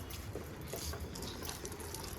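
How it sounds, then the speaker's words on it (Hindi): Water poured onto potted plants makes a steady, close splashing and trickling wash that continues without a break and stays fairly soft. "मैंने एक बार देके इन्हें फिर दोबारा से इनमें पानी डाल दिया है"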